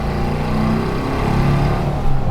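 A 1964 Porsche 356C Cabriolet engine accelerating up a highway merge lane, a close, loud, rising drone that climbs steadily in pitch over a couple of seconds with no talking.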